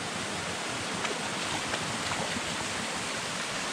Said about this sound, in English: This waterfall is way cooler than I thought.